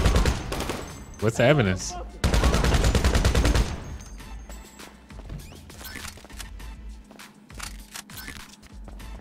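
Bursts of rapid automatic gunfire ring out in GTA 5 during a heist mission, loud and close, in two dense volleys over the first few seconds, then fade to quieter game ambience while someone talks over it.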